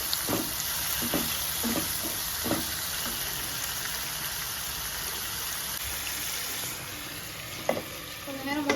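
Tomatoes with salt sautéing in a pan for a chicken gravy: a steady loud sizzle throughout, broken by several quick spatula scrapes and taps, close up and with no talking.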